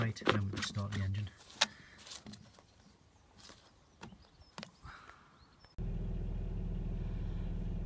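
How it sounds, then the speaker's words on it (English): A Land Rover Freelander engine with a failing head gasket starts partway through, settling into a loud, steady idle hum after earlier faint clicks and rustling inside the car. "We've just started the engine."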